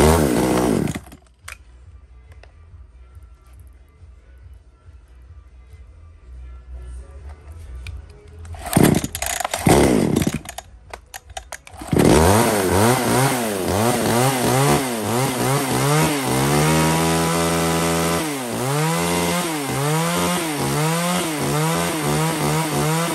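A Tanaka chainsaw from a lot of used Japanese-import saws: quiet handling noises, then the engine fires and runs loud and close, revving up and down repeatedly.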